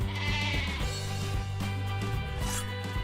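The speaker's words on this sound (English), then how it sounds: "these sheep are a bit defenceless" Sheep in the video game Shroud of the Avatar bleat in repeated drawn-out, wavering calls that overlap steadily through the clip, with no talking.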